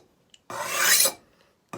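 A hand file rasping roughly across a workpiece, one loud, gritty stroke of about half a second followed by the start of another, close and alone.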